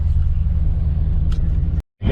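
A Dodge Challenger 392 with Dynomax Race Bullet mufflers idles with a deep, steady burbling rumble close by before cutting off abruptly near the end and briefly returning.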